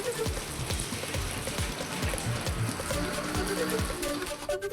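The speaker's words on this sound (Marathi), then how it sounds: "महाड तालुक्यासह शहरामध्ये मुसळधार पाऊस." Heavy unseasonal rain in the Mahad area of Raigad, a dense, steady patter of drops striking surfaces close by throughout, with no voices.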